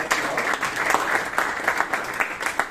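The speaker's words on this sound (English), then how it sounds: "please give Bryan a huge round of applause" Applause at a Toastmasters club meeting in Bangalore: a dense, steady round of clapping from a modest room audience, fairly loud and continuous throughout, with no talk over it.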